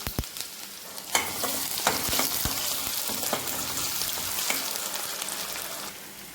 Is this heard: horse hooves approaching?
no